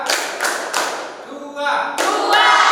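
A group claps in a counted pattern during a classroom session, sharp bursts of claps with short pauses between them and a brief spoken cue in the middle.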